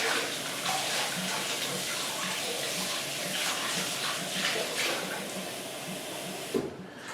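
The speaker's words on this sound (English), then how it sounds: "So let me get a little bit more water." Water pours steadily from a tap into a baby bottle for formula mixing, a continuous hissing splash lasting several seconds with a brief clunk near the end, close by and without talk.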